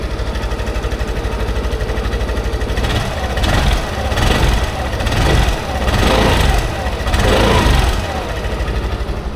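A Suzuki Access scooter engine idles steadily after starting, a loud close putter that swells in several rhythmic pulses through the middle, with no talk over it.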